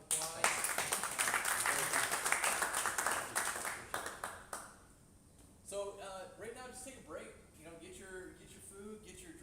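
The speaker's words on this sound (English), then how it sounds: "Give Don here a round of applause." Applause from a live audience at a business headquarters tour in Dallas, brisk clapping for about four seconds that fades out, followed by people talking.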